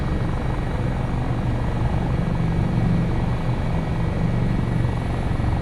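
HH-65 Dolphin Coast Guard helicopter in Microsoft Flight Simulator 2024, a steady droning rotor and turbine hum with a faint pulsing beat, continuous and loud with no talk.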